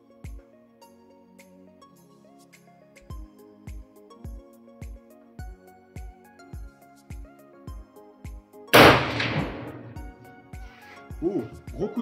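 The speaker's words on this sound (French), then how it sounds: "je vais tirer 3 cartouches sur chaque cible" A rifle fitted with an Archangel stock fires at targets 100 metres away: one loud, sharp shot with a lingering decay cuts through steady rhythmic background music.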